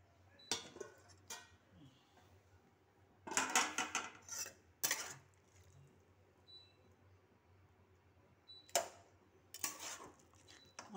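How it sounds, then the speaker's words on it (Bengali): A spoon scrapes and clatters against a pot while banana flower is stirred into fried potatoes, giving a few short, separate bursts of clinking with quiet pauses between them and no talking. "মোচাটা দিয়ে আমি নাড়িয়ে নিয়ে আবারও ভালো করে একটু সেদ্ধ করতে দেব।"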